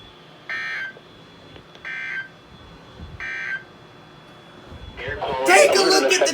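A NOAA Weather Radio alert test tone sounds as three short, evenly spaced electronic beeping bursts, followed by a louder burst of noisy signal.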